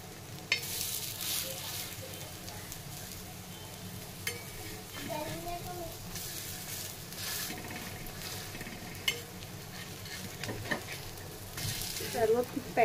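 Baby shrimp patties frying in a pan with a little added oil after being flipped, a faint, steady sizzle with occasional soft clinks of a utensil, fairly quiet and close.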